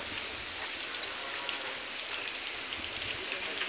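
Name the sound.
rain falling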